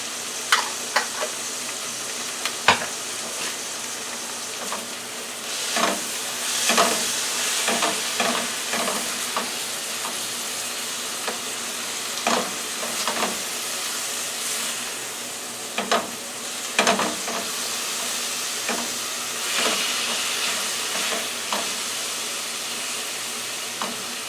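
Chicken and pasta with olives sizzling and frying steadily in a pan, a continuous close hiss with occasional spoon clicks and stirring scrapes, no talk.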